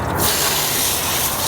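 Purple Power degreaser sprays onto a car engine bay in a short, close, hissing burst of about a second and a half, with no one talking.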